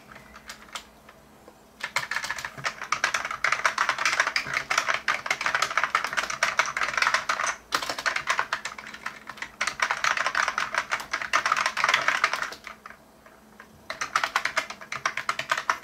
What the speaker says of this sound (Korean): 지금 타이핑 소리 들어보셨죠?